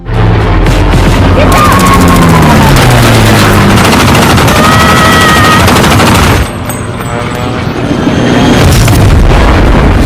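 Loud, dense bursts of rapid machine gun fire and booms from a war film pound continuously, with a whining aircraft engine sweeping through the din as the plane is hit, and a brief lull near the end.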